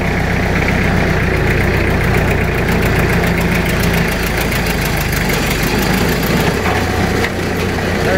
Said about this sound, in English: It's a Kubota diesel motor in it, so. Go ahead and give it a whirl. So you turn it on.